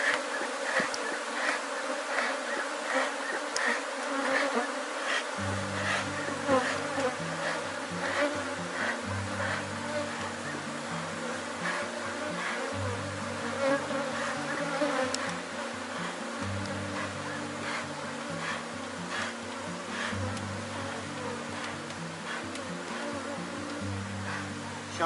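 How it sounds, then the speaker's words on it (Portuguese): Honeybees swarm out of an opened wooden hive box during an inspection, a dense, steady buzzing hum that fills the whole clip and grows fuller after the first few seconds, with a low droning tone underneath. "quando você abre ele, ó, voa abelha para todo lado"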